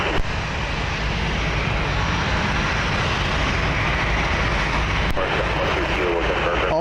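An aircraft at CMH airport gives a loud, continuous, close engine roar that holds steady, while a voice speaks faintly underneath.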